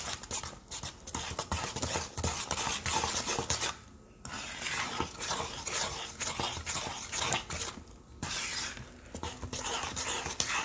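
A spatula repeatedly scrapes lumpy coffee cake batter from the bottom of a mixing bowl, giving close, rough rasping strokes in a quick, uneven rhythm with a couple of brief pauses.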